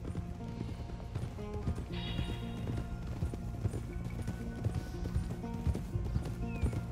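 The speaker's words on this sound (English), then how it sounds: "Horses, horses, horses, horses." Horse hooves clip-clop steadily in Red Dead Redemption 2, a close, rhythmic stream of hoofbeats with a brief whinny and game ambience underneath.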